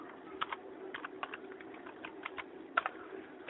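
Computer keyboard typing a command in AutoCAD, a quick irregular run of light clicks at close range, heard alone.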